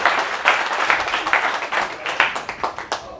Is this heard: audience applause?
yes